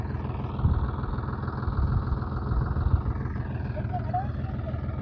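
A Holland 3630 tractor engine runs steadily at close range, a low continuous rumble with small surges, while people talk over it in a muddy field.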